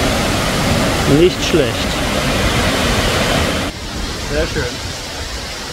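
Waterfall near Chiang Mai gives a steady, loud rushing roar throughout, with someone speaking briefly over it.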